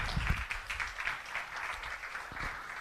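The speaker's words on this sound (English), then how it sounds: "So let's give one final push and an applause to Edo Sadikovic." Audience applause at a cross-border coworking conference, a dense, steady patter of many hands clapping that holds at an even level throughout with no voices over it.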